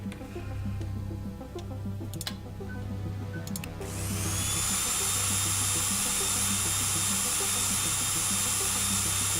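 A drill is inserted into a surface in a lab: faint clicks and ticks give way to a steady, loud high-pitched whine that holds without pause to the end.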